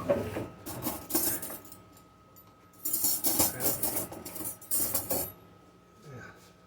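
Metal cutlery clinks and rattles in a kitchen drawer as a case knife is fetched, with two clusters of close, bright jangling separated by a short pause.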